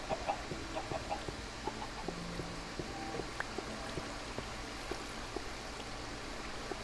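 Scattered soft clucking from several Minecraft chickens, fairly quiet and intermittent, over a faint steady background hum with no talking.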